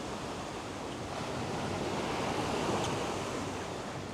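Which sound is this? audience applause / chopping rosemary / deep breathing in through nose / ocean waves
ocean waves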